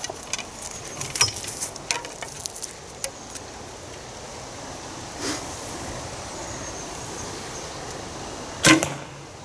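A Ben Pearson Cobra bow shoots an arrow, ending in one loud, sharp twang and thwack close by, after a scatter of faint clicks and taps against a quiet outdoor background.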